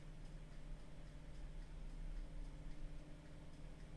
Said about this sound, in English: It's quite quiet, you can only hear the ticking.